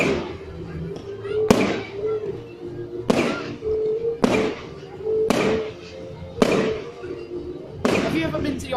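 Fireworks exploding on bonfire night, about seven sharp loud bangs spaced a second or so apart, each with a crackling tail, while people talk and react in the background.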